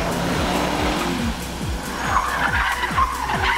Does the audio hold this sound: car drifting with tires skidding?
yes